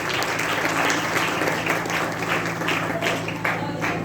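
Applause from a parish audience for a children's performance and their teachers at a Franciscan welcome event, steady sustained clapping throughout with a low hum beneath and some crowd murmur.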